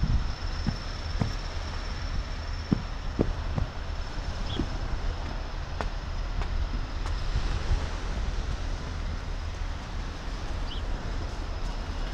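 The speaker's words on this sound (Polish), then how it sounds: "na plaży nad morzem." Wind and surf carry across a sea beach at Międzyzdroje on a rainy day, a steady broad rush with gusty microphone buffeting and a few faint knocks, no voices.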